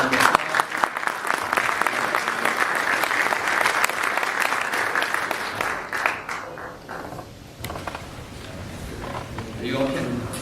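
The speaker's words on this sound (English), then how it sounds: "So give them a round of applause." Sustained applause from an audience at a business panel event, a dense, steady wash of many hands clapping for several seconds before it thins and fades toward the end.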